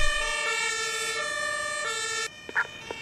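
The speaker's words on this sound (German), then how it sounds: "Das Martinshorn wird oben noch angezeigt." Fire engine siren (Martinshorn) from the firefighting video game Emergency 4, a loud two-tone wail held steady before cutting off abruptly near the end, followed by a few brief faint clicks.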